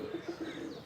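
Pigeons coo softly in a home loft, a low murmuring run of repeated calls close by with faint birdsong and rustling behind.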